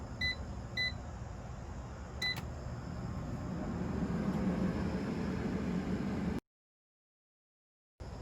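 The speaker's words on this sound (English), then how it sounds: "Now the air fryer is done cooking" An air fryer signals the end of cooking with a few short electronic beeps, faint and spaced over a steady hum of background noise.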